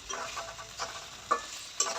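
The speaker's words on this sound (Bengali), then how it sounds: "কড়াইয়ে তেল দিয়ে তারপর হচ্ছে পেঁয়াজ, রসুন, আদা, জিরা এগুলো দিয়ে মশলাটা সুন্দর করে ভাজা হচ্ছে" Onion, garlic, ginger and cumin frying in oil in a wok, a steady soft sizzle with a few louder stirring scrapes and clatters.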